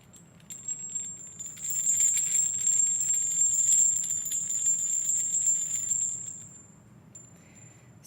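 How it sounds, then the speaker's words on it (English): A solid brass rattle with bells and chimes gives off a bright, sustained high ringing tone for several seconds before fading, with a faint jingle afterward, close and fairly quiet. "it's a rattle and bells and chimes, which is really cool."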